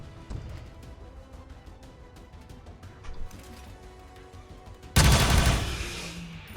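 A single loud gunshot blast erupts in XCOM 2, a heavy close report that decays into a lingering rumble, following a stretch of quiet game ambience with faint ticking.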